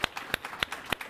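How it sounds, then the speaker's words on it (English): A few sparse, evenly spaced claps ring out at a panel discussion on NATO and Ukraine, four quick sharp hand claps in just over a second, fairly faint and with no voices. "so a big applause for this panel"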